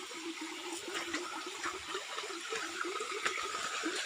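A steady rushing of falling water fills the scene, a continuous bright wash with no voices.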